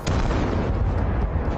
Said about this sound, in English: Causes an instant explosion of the entire tank's ammunition.